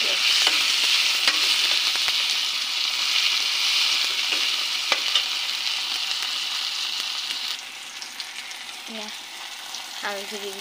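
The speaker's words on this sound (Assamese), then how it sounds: "এতিয়া ইয়াত নহৰু, আদা, পিঁয়াজ ভাজি কৈছোঁ।" Garlic, ginger and onion fry with tomato in a pan, a loud continuous sizzle close by that eases slightly near the end, broken by a few spatula scrapes and stirring knocks, with no voices.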